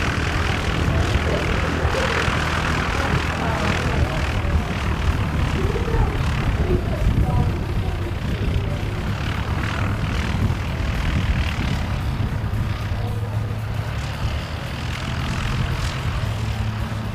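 JetStar flight 273, Hamilton to Christchurch, a sustained aircraft engine drone with shifting tonal hum that stays fairly loud and close, while people talk over it.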